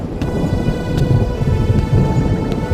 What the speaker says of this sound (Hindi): बारिश की बूंदें छप्पर से टपक रही थी